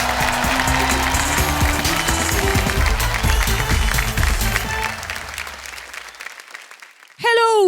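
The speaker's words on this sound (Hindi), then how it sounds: "तो एक बार जोरदार तालियों के साथ बुला लिया जाए नीति पाल्टा" Studio audience at a comedy family show applauds loudly for several seconds as a woman guest from Delhi is welcomed on stage, the clapping fading out before a voice begins.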